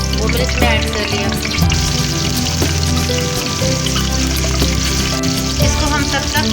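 Green chillies and garlic fry in about three tablespoons of hot oil in a pan, a loud, close, continuous sizzle and crackle with occasional stirring clinks throughout.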